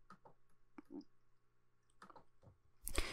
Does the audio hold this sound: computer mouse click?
yes